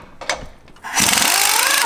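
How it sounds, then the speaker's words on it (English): An 18mm socket wrench works on a rear shock bolt at the axle of a Jeep JL Wrangler. A few short knocks are followed by a loud, steady mechanical rasp during the final second. "we're going to go ahead and remove the bolt and nut securing the rear shocks to the axle"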